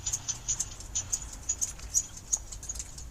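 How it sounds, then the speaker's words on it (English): Hand tally counters click in the background as an observer counts crickets: quiet, sharp, irregular clicks repeating a few times per second over a low steady hum. "The clicking noise you hear in the background is the observer attempting to count the crickets with the hand tally counters"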